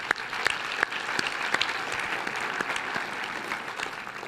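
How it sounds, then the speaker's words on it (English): An audience gives a round of applause at a community recovery event, with dense, steady clapping from a large crowd and a few sharper claps standing out near the front. "give yourselves a round of applause for being here today"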